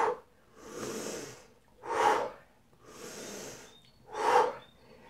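Heavy rhythmic breathing during a home workout exercise, with loud sharp exhales alternating with softer, longer inhales in a steady cycle, close and alone without speech.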